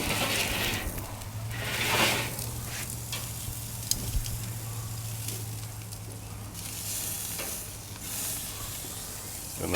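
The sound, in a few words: meat searing and sizzling over flames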